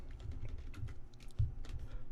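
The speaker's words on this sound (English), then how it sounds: "As you see, as I'm typing over here" Quick, light keystrokes patter on a computer keyboard while an ad form is filled in, an uneven run of close, soft clicks with no one speaking.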